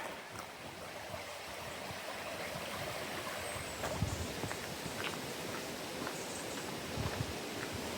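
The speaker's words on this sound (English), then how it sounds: "that sound of the water flowing under this bridge, just absolutely serene" Water flows and gurgles under a bridge near the Cannock Chase waterfalls in a steady, soft rush, with occasional faint footsteps or knocks on a surface nearby.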